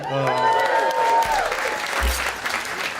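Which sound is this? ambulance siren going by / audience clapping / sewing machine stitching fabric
audience clapping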